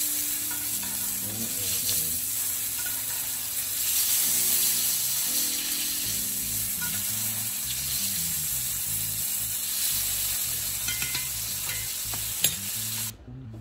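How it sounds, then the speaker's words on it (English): Steaks sizzle steadily in a hot pan while melted butter is spooned over them, a continuous close crackle with faint spoon scrapes and background music. "Get them covered in that melted butter."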